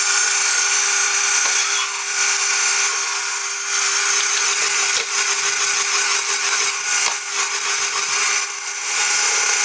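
A 5.1 mm twist drill bores steadily into a bicycle rear axle on a lathe with a bright, continuous metallic whine and a steady tonal hum, close and loud. A few brief dips and clicks break the drone.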